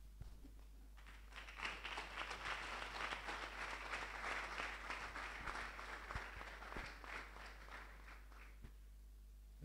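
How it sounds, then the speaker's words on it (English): Students at a school commissioning ceremony for senior four and six candidates at Busoga College Mwiri give their parents a long round of dense hand clapping, steady and full for several seconds before stopping abruptly. "give our parents a mighty hand clap for all the provisions"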